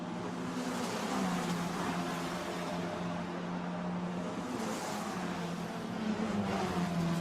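A Formula Renault Eurocup race car on a semi-wet Spa-Francorchamps circuit through Eau Rouge, its engine a sustained droning tone that shifts pitch as it climbs, heard at a distance under broadcast ambience.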